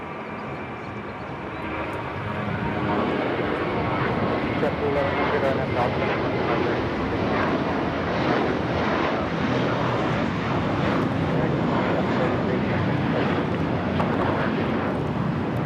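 American Airlines Airbus A321 jet taking off from Los Angeles LAX bound for Miami, Florida: engine roar swells after two seconds and stays loud and broad, with some wind buffeting and a voice talking over it.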